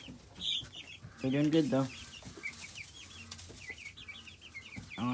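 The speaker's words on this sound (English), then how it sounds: "They're mostly Buff Orpington crossed with a little bit of Astrolop." Young Buff Orpington and Australorp cross chickens cluck and chirp softly near by, with a burst of louder clucking partway through, and someone speaks briefly.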